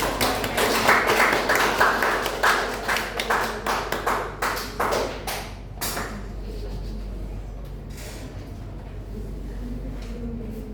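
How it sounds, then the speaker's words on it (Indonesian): Applause from a classroom of students during a macroeconomics microteaching lesson, dense rapid clapping lasting about six seconds before tapering off into quiet room tone. "Beri aplaus dulu ke teman-teman yang"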